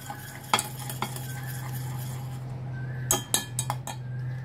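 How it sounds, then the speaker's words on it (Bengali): Homemade condensed milk is strained through a metal strainer, with scattered spoon-on-metal clinks and scraping taps over a steady low kitchen hum, the clinks clustering toward the end. "এবারে এটাকে আমি একটুখানি স্ট্রেনারে ছেঁকে দেবো।"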